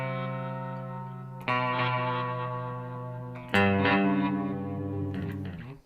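Guitar through a Strymon Timeline pitch-shifted delay set to a major third gives a shimmering, chorus-like tone. Sustained chords ring with echoing repeats, two fresh strums swelling over decaying tails, with no talking.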